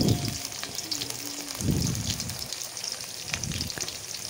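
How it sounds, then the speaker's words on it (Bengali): Potatoes fry in oil with turmeric and salt, giving a soft, rain-like crackling sizzle with several low thumps from the pan or the potatoes being moved. "হলুদ আর নুন দিয়ে আলুগুলো ভেজে নেব"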